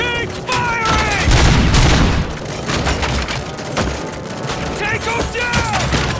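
Sustained gunfire rattles through a firefight in RoboCop: Rogue City, dense bursts and booms stacking over a loud game score while a voice barks short commands over the shooting.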